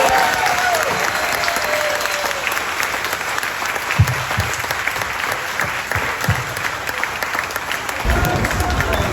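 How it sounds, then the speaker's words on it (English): Sustained, dense audience applause fills a Smallville Q&A panel at the 2024 Superman Celebration fan event, loud and even throughout with a few low thumps and voices mixed into the crowd. "One more round of applause, everybody."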